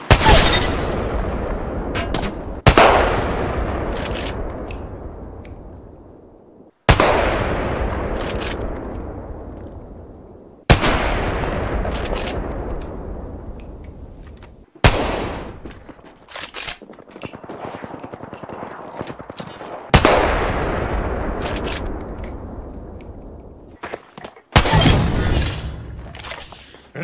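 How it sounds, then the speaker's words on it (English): Heavy bursts of gunfire in the video game Apex Legends, a series of loud, sharp shots each followed by a long decaying echo, with brief clinks and faint game voice lines mixed in. "Our forces taking fire."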